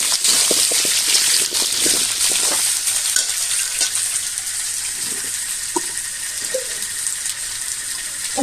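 Sweet pumpkin fries with dried chili in a pan, a loud steady sizzle with a watery, rushing hiss throughout and several small scrapes and knocks near the end; no voices.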